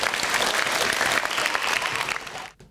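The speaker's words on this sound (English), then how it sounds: "Give her a round of applause, please." School assembly audience giving a dense, steady round of applause that holds evenly and then trails off abruptly at the end.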